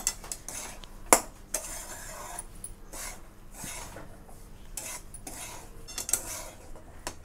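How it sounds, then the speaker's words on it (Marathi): Grated coconut is dry-roasted and stirred in a hot kadhai for karanji filling, with scattered scraping and clinks of a spoon against the metal pan and a few sharper knocks, moderately close, no talking. "खोबरं भाजत नाही ती, पण मी कच्चापणा जाण्यासाठी उगं थोडंसं भाजून घेते"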